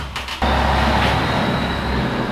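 A heavy vehicle rumbles loudly nearby, a steady low engine roar that swells in after a brief quieter moment and holds throughout.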